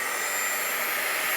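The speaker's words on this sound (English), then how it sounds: "let's give this a quick shot with a heat gun" A heat gun blasts steadily over watercolor paint on a holiday bauble card, a loud, even, close-up rushing whir of hot air that holds constant throughout with no talking.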